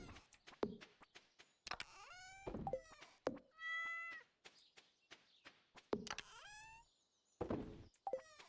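A cat meows repeatedly in Stardew Valley, several close, clear game-sound meows spaced through the stretch with brief thunks between them.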